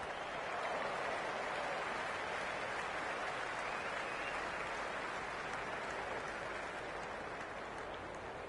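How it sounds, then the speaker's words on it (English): A stadium crowd at a Cricket 26 T20 World Championship semi-final, England versus West Indies, cheers as a steady, loud roar of applause and noise that holds without a break throughout. "It's evident and ever so audible that the crowd is at near bursting point at today's play"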